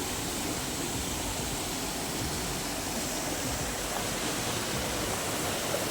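A waterfall pours with a steady, broad rushing hiss, continuous and even throughout, with no voices over it.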